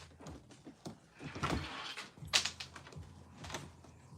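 A dog paws and scratches at a door, producing irregular soft scrapes and rattling knocks with a sharper scratch midway, faint and close with no talk.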